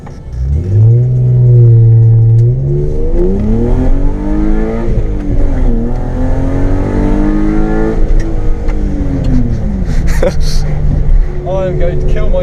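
Straight-piped BMW E36 with a swapped M52 2.8 engine revs hard, climbing and falling in loud raspy sweeps close by, with someone talking over the roar near the end.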